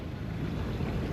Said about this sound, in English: we got a little bit of wind here